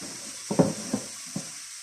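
Onions fry in a pot for a yellow pea and fennel seed soup with smoked paprika, a faint steady sizzle broken by a few short spoon-stirring knocks and scrapes.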